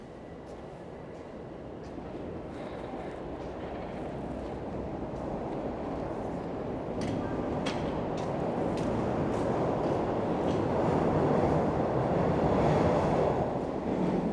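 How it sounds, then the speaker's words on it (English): A steady low rumble of a train leaving a station slowly building in loudness, heard from a distance outdoors at midnight in North York, Toronto, in extreme cold, with some wind noise. "that sounds like the train I need just leaving"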